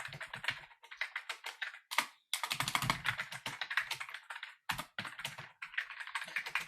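Rapid clicking of computer keys in uneven bursts with short pauses, close and clear, no voices.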